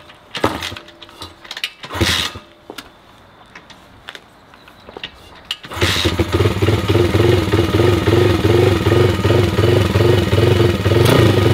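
A Bastos BSC 140 motorcycle from 2023 gets a few clanking kicks and handling sounds, then the engine catches and idles loudly nearby with a steady, slightly uneven chug while warming up.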